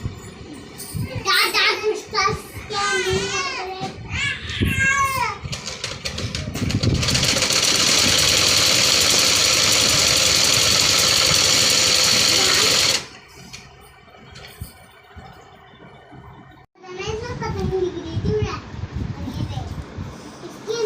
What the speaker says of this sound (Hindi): और अब हम इस पर सिलाई लगा देते हैं फिटिंग की सिलाई लग रही है।